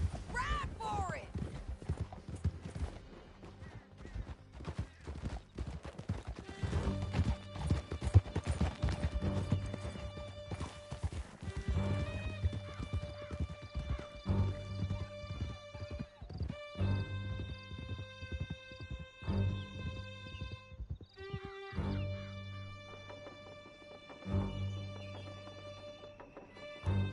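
Horses gallop in the video game Red Dead Redemption 2 during a chase, with a steady rhythm of hooves under music and speech, plus an occasional whinny, before the hoofbeats fade into calmer stretches.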